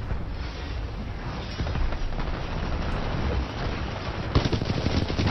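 A sentry gun firing in Titanfall 2 multiplayer attrition, a continuous loud rattle of rapid shots mixed with booming blasts, steady throughout with a sharper cluster of hits near the end.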